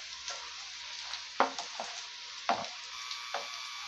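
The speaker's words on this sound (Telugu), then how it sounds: "చక్కగా మీడియం ఫ్లేమ్లోనే స్టవ్ ఉంచుకొని ఈ పోపు అంతా కూడా బాగా వేగేలాగా ఇట్లా కలుపుకుంటూ వేయించుకోవాలి" Urad dal tempering sizzling in oil on a medium flame while being stirred for a coriander pickle, with a steady frying hiss and a few sharper scrapes and clacks of the spoon against the pan.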